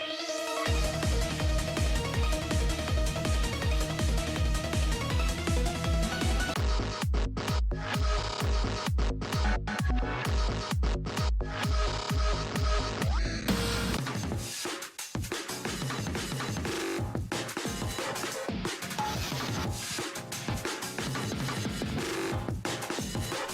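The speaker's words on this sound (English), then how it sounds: "We got dynamic battle music, and it sounds like this." Intense orchestral battle music from the video game Strikers with driving rhythmic pulses and percussion, shifting into denser, busier layers partway through; loud and continuous, no voices.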